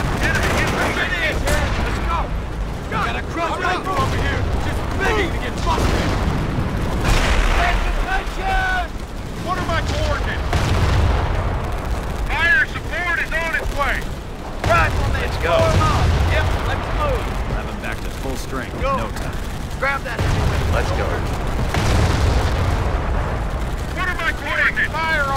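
Dense gunfire and booming explosions fill the Omaha Beach battle in the Company of Heroes video game, with continuous rattling bursts and heavy rumbles while shouted voices cut through.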